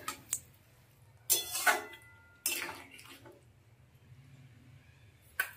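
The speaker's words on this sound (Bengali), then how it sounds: "এবার পরিমাণ মতন এতে জল দিয়ে দেবো" Water is poured into a pan of cauliflower and potato curry in a home kitchen: two short splashing pours a second or so apart, framed by faint clinks of the pan and utensil, with a quiet room behind.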